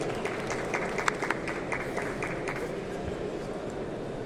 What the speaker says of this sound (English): Let's welcome Mr. Rahul Shah with a nice warm round of applause